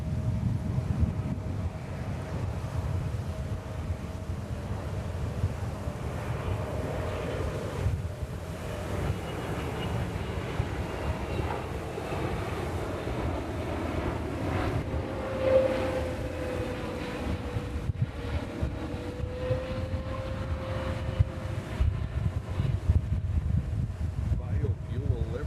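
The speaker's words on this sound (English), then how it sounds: "Triple 7-300 Turkish." Turkish Airlines Boeing 777-300 jet at New York JFK airport, a steady low engine roar with wind buffeting the microphone, heard from a distance with a person talking over it.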